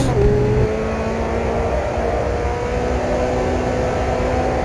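A racing-game car at full throttle, its engine note dropping abruptly on an early upshift into fourth and then climbing again in a steady loud drone, no voices over it.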